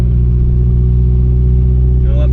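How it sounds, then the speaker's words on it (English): Turbocharged car engine idling high while warming up, a steady close, loud low hum with strong harmonics throughout, and a brief rising whine near the end. "I don't know why it's idling so high right now"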